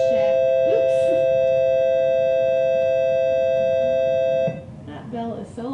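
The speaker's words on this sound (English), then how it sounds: "That bell is so long." A long, steady electronic school bell rings as one continuous loud tone for several seconds, then stops as a person begins talking.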